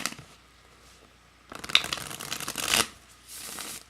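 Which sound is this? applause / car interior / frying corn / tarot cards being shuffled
tarot cards being shuffled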